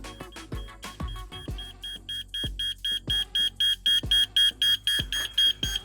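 Regular electronic beeping repeats steadily, about two beeps per second, high-pitched and piercing, with thuds and clatter underneath at the start.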